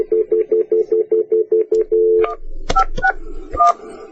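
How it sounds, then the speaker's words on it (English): A run of roughly ten quick, evenly spaced touch-tone beeps dials out on a telephone to reach a podcast guest, followed by a few scattered higher tones and clicks, all close and clear with no talking. "we're going to dial in Greg"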